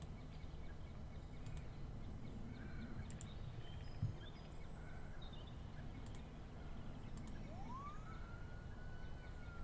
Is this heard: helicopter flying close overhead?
no